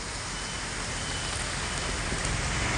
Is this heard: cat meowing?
no